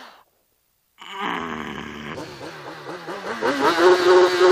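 A motorcycle with an extra exhaust starts up after a brief silence and revs repeatedly, its engine note wavering and climbing in pulses, close and growing louder.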